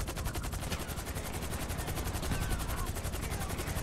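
Sustained gunfire from a GTA 5 shootout, a dense run of rapid shots rattling on steadily throughout at moderate level, with no clear voices over it.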